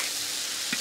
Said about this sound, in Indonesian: Tomat dulu dimasukin, aduk dulu ya.